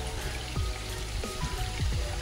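Rain falls steadily around a hill fort, a dense, close patter of drops with a few heavier splashes and low rumbling underneath, no voices.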